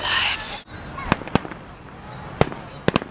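Showery fireworks bursting outdoors, a few sharp crackling pops scattered over about three seconds after a brief louder hiss at the start, heard at moderate distance against background noise.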